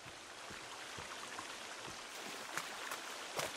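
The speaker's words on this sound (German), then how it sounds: "Ich glaube, der Wasserfall ist neu." A waterfall in the survival video game Sons of the Forest gives a steady, faint rushing wash of water, with a few soft clicks scattered over it.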